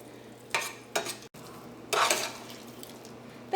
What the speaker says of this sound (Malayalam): ഇതെല്ലാം കൂടിയിട്ട് മിക്സ് ചെയ്തിട്ട് ഈ ചേനയും കായൊക്കെ നന്നായിട്ടൊന്ന് ഉടച്ചെടുക്കണം